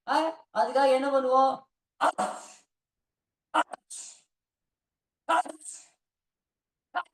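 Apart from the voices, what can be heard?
sneezing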